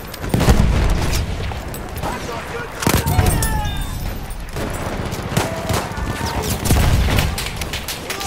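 Enemy machine gun fire rattles across a Battlefield 1 battlefield in repeated bursts, mixed with booming explosions and other gunfire, loud and continuous, while voices come through.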